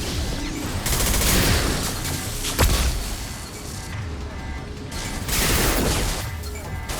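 Rapid gunfire bursts crackle from a Mass Effect 2 firefight on PS5, sustained volleys with a sharp crack near the three-second mark and loud surges toward the end, no voices heard.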